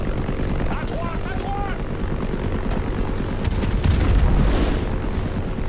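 A helicopter in the video game Modern Warfare 2 Remastered, a loud, steady rotor rumble mixed with booming explosions and battle noise that swell toward the end.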